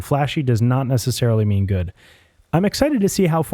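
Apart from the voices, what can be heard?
No distinct noise like a dog, phone or traffic.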